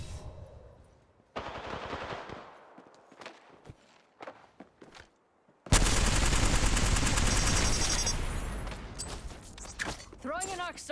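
Gunfire in the shooter game Apex Legends, with rapid automatic bursts and single shots breaking out loudly after quieter footsteps and clatter, ending in a long, dense volley.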